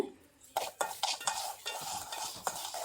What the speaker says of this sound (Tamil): டைரெக்டாக பேனில் மாற்றிட்டு தான் வறுக்கிறேன்